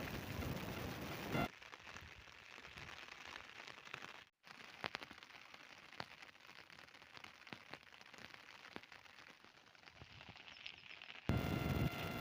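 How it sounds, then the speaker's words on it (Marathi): Heavy rain falls steadily on a muddy farm field, a dense continuous hiss of drops with crackling hits, fairly faint overall and without talk. "बघा, पाऊस चालू आहे भरपूर."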